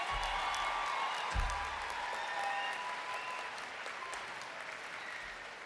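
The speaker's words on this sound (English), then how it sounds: "Let's give one more round of applause for the class of 2025 valedictorian and salutatorian" A crowd at a 2025 high school graduation ceremony applauds steadily, a dense wash of clapping from a large audience heard at moderate distance, with a couple of low thumps early on.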